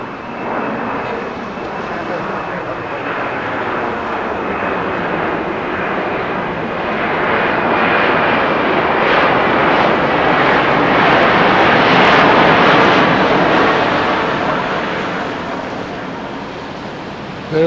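An Emirates jet airliner at LAX airport on a stormy day, a broad, steady engine roar that swells to a peak and then eases, with faint radio-like voices underneath.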